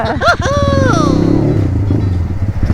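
A motorcycle held in second gear at a first-time jump practice revs loudly and close by, its engine pitch sweeping down and settling into a rough, throbbing drone, with a voice briefly audible over it.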